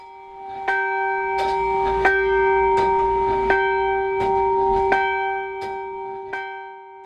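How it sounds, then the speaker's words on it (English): An Anglican church bell in Whangarei tolls slowly and steadily, about eight ringing strikes at even intervals, each leaving a long, humming resonance that sustains beneath the next stroke, loud and alone. "In Whangarei, the Anglican church bell rang out 50 times for the fallen."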